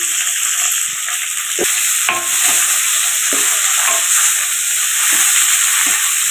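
Onion sautéing in a pan for a Tamil raw banana poriyal, frying with a steady bright sizzle as a spoon scrapes and stirs in irregular soft knocks, with no talking.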